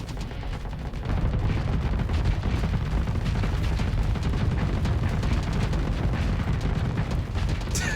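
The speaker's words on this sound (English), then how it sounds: "Hit him with that barrage." Harpoon barrage fire in a space battle video game, a dense, continuous roar of rapid booming shots and explosions that kicks in after a second and keeps pounding loudly without pause.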